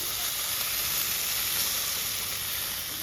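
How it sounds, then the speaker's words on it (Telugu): Three small tomatoes frying in oil in a pan over medium flame give a dense, even hiss of sizzling that holds steady and close throughout, with no one speaking. "కొంచెం ఆయిల్ వేసుకోవాలి మీడియం ఫ్లేమ్లో పెట్టుకొని బాగా ఫ్రై చేసుకోవాలి టమాటాలు కూడా"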